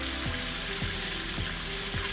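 Fish frying in hot salted oil in a pan, a steady dense sizzle with faint periodic knocks or stirring sounds, close and continuous with no talking.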